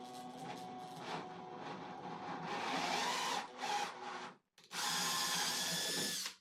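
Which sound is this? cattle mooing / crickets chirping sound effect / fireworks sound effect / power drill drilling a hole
power drill drilling a hole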